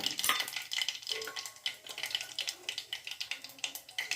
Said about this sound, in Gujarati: આપણે પહેલાં રાઈ નાખીશું, જીરું નાખીશું,